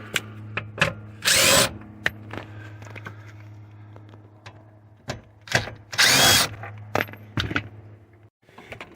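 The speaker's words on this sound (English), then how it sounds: "take these two bolts out, or two little screws out from up underneath the dash" Short bursts of a power drill back out small quarter-inch screws from under the dash of a 2004 Chevy 1500 pickup, two loud whirring runs separated by clicks, handling knocks and a steady low hum.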